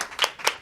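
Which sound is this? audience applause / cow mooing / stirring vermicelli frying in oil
audience applause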